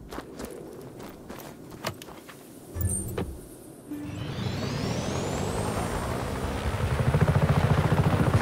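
A helicopter in the open-world action game Just Cause 3 spools up after a few footsteps and clanks, its rotor drone swelling into a loud, steady roar that builds toward the end.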